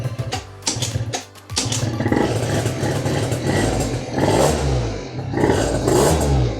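A 50cc scooter fitted with a new exhaust starts up and revs repeatedly, its buzzing small engine rising and falling in loud, close bursts with some mechanical clatter, and nobody speaks.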